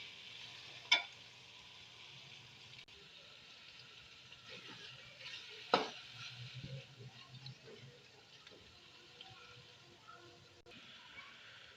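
Beef qeema masala sizzling quietly in a pan, a soft steady frying hiss broken by two sharp scraping clicks as the mince is stirred.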